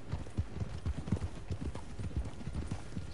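Hooves of a Dutch Warmblood horse in Red Dead Online clip-clop at a steady walking rhythm, soft and fairly quiet, continuing evenly throughout.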